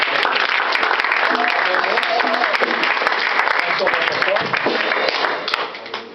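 A church congregation applauds loudly and continuously, many hands clapping close by, with voices mixed in, before the clapping tapers off near the end.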